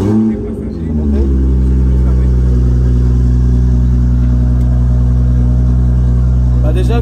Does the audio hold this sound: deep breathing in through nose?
no